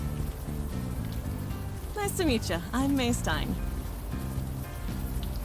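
Steady rain falls throughout a scene from the video game Unavowed, a constant wash of drops under a short exchange of speech with quiet background music.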